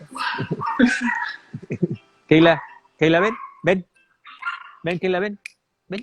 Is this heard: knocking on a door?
no